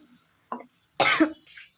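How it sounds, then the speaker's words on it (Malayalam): Two short, close coughs, a small one followed by a louder, harsher cough, with quiet in between. "നല്ല ചുമക്കുണ്ട് എല്ലാവരും"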